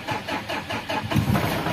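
A Mitsubishi Triton diesel engine, which runs rough and smokes white, cranks with a rhythmic pulsing churn close by and loud, catching toward the end of the short burst.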